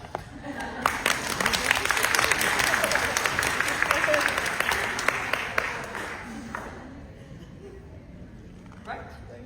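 Audience applause at a leadership panel event, a room full of clapping that builds quickly, holds steady for several seconds, then fades out with a few scattered claps at the end.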